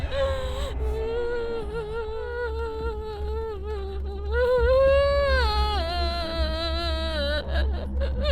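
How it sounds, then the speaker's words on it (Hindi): A girl cries in a Hindi-dubbed South Indian horror film with long, wavering, wailing sobs that rise and fall close to the listener, over a low background hum. "रोने की आवाज तो सच में आ रही है।"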